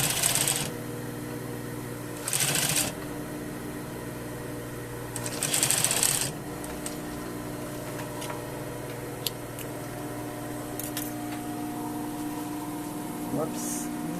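Three short bursts of a sewing machine stitching a pocket seam, close and rapid, separated by quieter stretches of steady hum and small clicks, with a voice talking between them.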